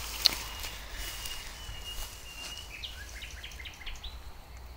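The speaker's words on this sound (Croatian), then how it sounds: "Evo čujete ptice." Small birds chirp outside an old building with a cross on top, a few faint, high, scattered calls in the distance, mostly in the later seconds, alongside a few soft footsteps.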